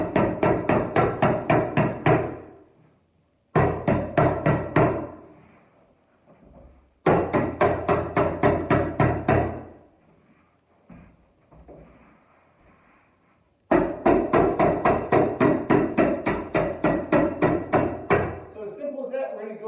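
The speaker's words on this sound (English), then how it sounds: "we're just gonna staple this down in a zigzag pattern, holding the seam together" A stapler fastening carpet padding along a seam in a zigzag pattern, rapid close sharp clacks fired in four quick runs separated by short quiet gaps.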